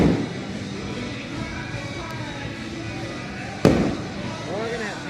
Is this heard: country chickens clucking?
no